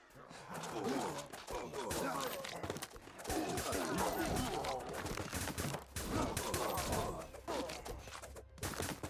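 Rapid gunfire in the survival game Romestead crackles in dense, overlapping bursts with brief pauses, loud and close, mixed with combat noise and a talking voice.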